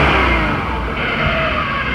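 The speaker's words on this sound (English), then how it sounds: "So that's the stock exhaust." A 2017 Can-Am Renegade 570 ATV with its stock exhaust runs in a brief, loud, continuous engine drone, held steady without clear peaks.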